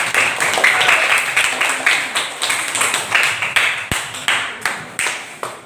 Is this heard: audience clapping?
yes